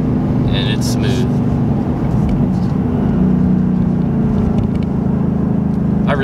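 A 2018 Ford Mustang GT 5.0 V8 pulls steadily from inside the cabin, its low engine drone rising slightly partway through, loud and continuous beneath road noise, with no voices.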